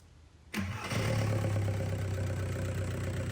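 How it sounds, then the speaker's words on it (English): A VW Golf Mk4 1.9 TDI diesel engine cranks and catches after a brief quiet moment, then settles into a steady, loud idle with a low rumbling drone. "the engine started right away, everything is working very good and very nice"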